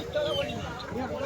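Chickens cluck briefly at a bustling village livestock market where birds are sold by weight, a faint burst of clucks with background chatter.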